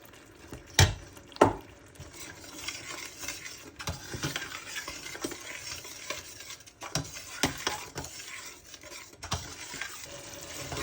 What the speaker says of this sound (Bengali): আমার মশলাটা ভাজা ভাজা হয়ে গেছে।